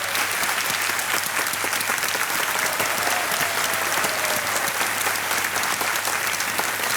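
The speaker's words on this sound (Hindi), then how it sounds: "तालियां बजते रहे," Steady applause from a studio audience on a Hindi-language quiz show, dense continuous clapping filling the whole stretch without pause, moderately loud and close.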